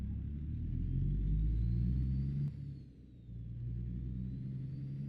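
A truck engine in the American Truck Simulator video game rumbles steadily at low pitch, dips briefly midway, then returns to a loud, even drone with no talking.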